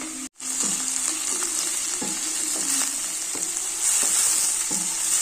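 Chili paste fries in hot oil in a pan for a beach-style batani chaat, giving a continuous loud sizzle broken by regular scraping strokes of a spatula, with a brief dropout near the start.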